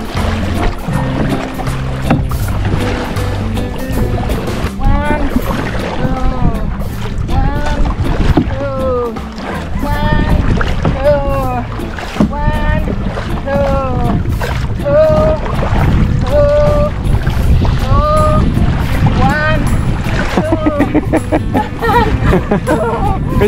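A dinghy is rowed across rough sea off Koh Mak in Thailand, with water sloshing, splashes and wind noise continuing throughout, while several people talk and call out loudly over the paddling.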